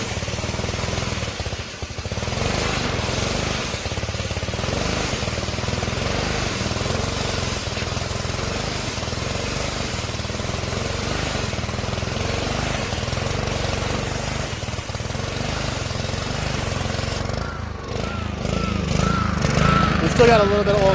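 A repaired small engine runs steadily on fresh premium fuel after a restart, a loud continuous drone with a rough, slightly uneven note, while someone talks over it throughout.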